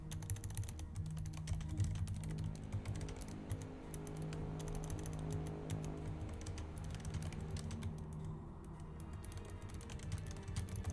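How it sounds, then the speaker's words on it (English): Fast typing on a computer keyboard, quiet and steady rapid key clicks running continuously against a low background hum, with no voices. "I'm going to type that fast in the guild."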